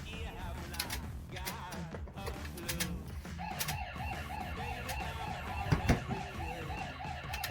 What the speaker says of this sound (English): Oh yeah, the alarm.